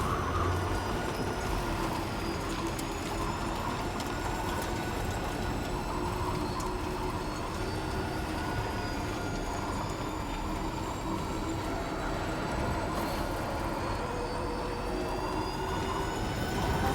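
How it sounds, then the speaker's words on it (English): A monorail in the Death Stranding video game moves with a steady mechanical rumble and a rising tonal whine. It is sustained and moderately faint over a game ambience, with no talking. "I hear a monorail already out and going somewhere"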